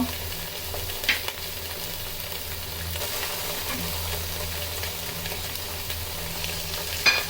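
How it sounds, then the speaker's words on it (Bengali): Hilsa fish frying in oil with a spice paste, a continuous moderate sizzle and crackle close by, with a couple of light utensil clicks and no talking. "আমরা ইলিশ মাছগুলো মশলার সাথে ভেজে নেব, রান্না করব না।"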